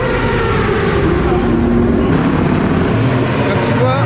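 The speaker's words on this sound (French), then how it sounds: "c'est Aurélien qui est en train de rouler avec une autre moto qu'on a" A motorcycle rides on a race track at the 24 Hours of Le Mans motorcycle event, a loud steady engine drone with a passing whine, heard under continuous talking.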